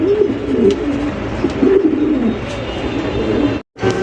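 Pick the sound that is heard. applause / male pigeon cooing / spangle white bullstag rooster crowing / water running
male pigeon cooing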